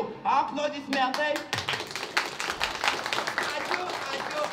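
An audience applauds at a summer theatre premiere in Naisiai. A brief spoken line comes first, then a burst of quick, scattered handclaps that continues steadily at moderate distance.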